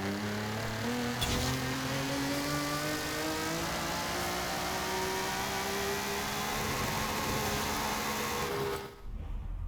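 Car engine in Forza Horizon 5 on a very powerful drag-style car, revving and whirring in a long sustained climb for nearly ten seconds, loud and alone, then cutting off abruptly at the end.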